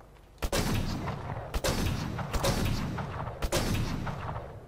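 Four loud gunshots in the video game Killzone Shadow Fall ring out at irregular intervals, each a sharp crack followed by a rumbling tail, over a steady background hum.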